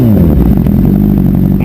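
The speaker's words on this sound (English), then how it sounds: "Motorcycle." Motorcycle engine idling and revving close by, a rough mid-pitched drone with a slight rising pitch at the start and a clattering texture, loud and alone.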